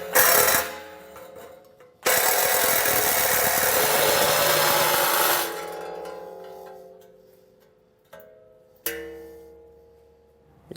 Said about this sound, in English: I'm gonna use a Sawzall